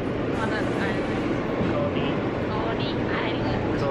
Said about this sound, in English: We are here in the train, Q train,